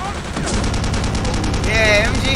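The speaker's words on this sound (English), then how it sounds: "Machine gun. That's the German MG42." A German MG42 machine gun firing in Return to Castle Wolfenstein: a loud, very rapid continuous burst of shots, close and harsh, with a voice speaking over it.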